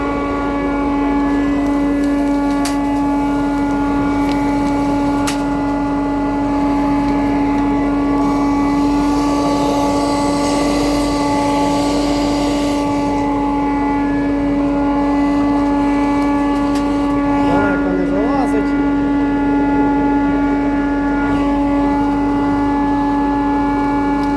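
A Metabo SPA 1200 dust extractor runs steadily in a workshop, giving a constant, moderately loud motor hum with a whining tone that holds unbroken from start to finish.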